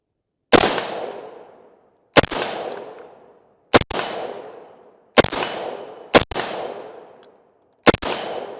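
An FN SCAR 16S rifle fired outdoors, six loud single shots at irregular intervals, each a sharp crack followed by a long rolling echo.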